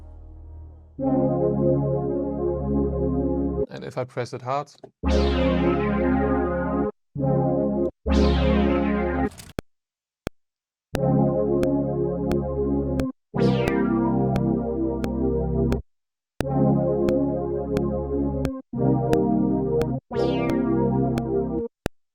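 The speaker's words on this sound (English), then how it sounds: "I changed the sample right here to Yamaha strings, and now it sounds like this." Sampled Yamaha string chords played on a keyboard sampler ring out in a series of sustained notes, each cut off abruptly, with brief gaps and a short spoken remark near the start.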